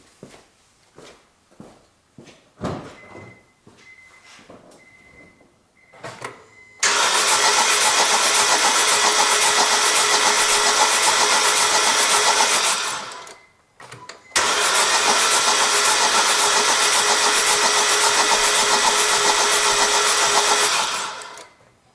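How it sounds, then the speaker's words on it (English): During an ignition coil test, clicks and brief cranking come first, then a car engine catches and roars loudly, cuts out briefly, and roars again before stopping. "now I go to start my engine"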